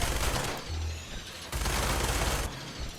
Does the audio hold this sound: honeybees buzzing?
no